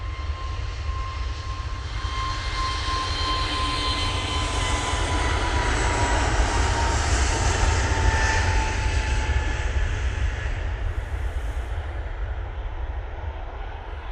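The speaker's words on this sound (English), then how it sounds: "there's an EasyJet going out. There we go. Off to 10 as they go with this A320neo." An EasyJet Airbus A320neo taking off at Manchester Airport, its engines giving a steady, powerful roar with a rumbling low end and a faint whine sliding slowly downward, close and loud throughout.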